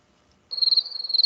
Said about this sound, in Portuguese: Deixa eu ver o grilo, se o grilo canta ainda.